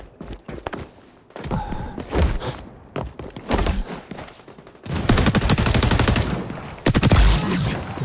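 Gunfire rattles in the shooter game XDefiant, with bursts of automatic shots and thumps. It starts sparse and turns into loud, sustained volleys near the end.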